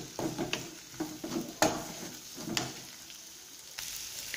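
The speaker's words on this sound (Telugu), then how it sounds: "వేసిన తర్వాత ఒక 1 మినిట్ ఫ్రై చేసుకుంటే మన ఫ్రై రెడీ అయిపోతుంది" Cluster beans and moong dal with dried coconut powder frying and being stirred in a pan, a steady soft sizzle broken by a few sharper scraping stirs, close by with no talking.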